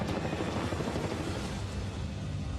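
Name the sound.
military Black Hawk helicopter flying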